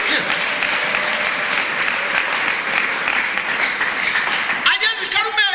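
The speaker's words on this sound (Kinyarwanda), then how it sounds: "mwikomera amashyi Imana yacu irihagije" A church congregation applauds together during a sermon, a dense, steady wash of many hands clapping that continues throughout and then changes near the end as voices rise over it.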